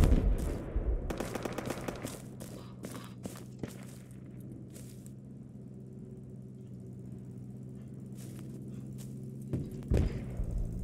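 MG34 machine gun fire in the video game Project Reality, with bursts of sharp reports near the start and some scattered shots later, over a steady low rumbling hum.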